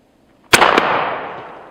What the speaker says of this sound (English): Let's use this gun for what it was meant for. Let's blow some stuff up.